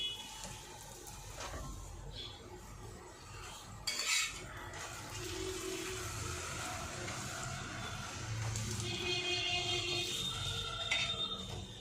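Fried paratha lifted from a pan onto a plate, with faint metallic scrapes and clinks of utensil on cookware, a sharp clatter near the middle, over steady low kitchen background noise; no talking.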